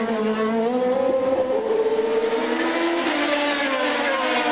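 Formula 3000 race cars at the Spa bus stop chicane in 2002, engines screaming loud and continuous with rising and falling pitch as they brake and power through the corner, several cars overlapping.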